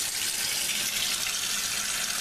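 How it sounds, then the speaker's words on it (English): Water runs steadily from a faucet into a bathroom sink as it fills, a constant close hiss and splash that stays even throughout with no voices. "I'm gonna go ahead and fill our sink up."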